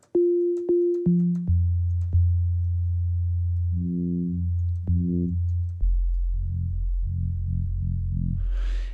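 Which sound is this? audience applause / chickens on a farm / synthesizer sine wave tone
synthesizer sine wave tone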